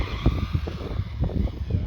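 A small 1/16 scale Imex RC drift car whirring and skidding in short bursts, its motor revving up and down rapidly, close by.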